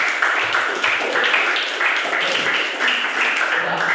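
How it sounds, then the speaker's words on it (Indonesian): A class of students claps in a rhythmic group burst, regular pulses of hands blended with voices, loud and close in a room. "Tepuk tangan buat bicara"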